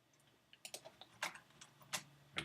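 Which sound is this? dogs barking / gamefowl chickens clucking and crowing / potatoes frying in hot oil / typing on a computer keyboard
typing on a computer keyboard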